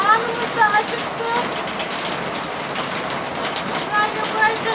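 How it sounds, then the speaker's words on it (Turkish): Heavy rain falls in a village in a dense, steady hiss of drops hitting surfaces. It is loud and continuous throughout, with a few faint voices and bird-like chirps underneath. "Çok da yağmur yağıyor."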